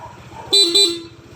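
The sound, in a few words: motorcycle stock horn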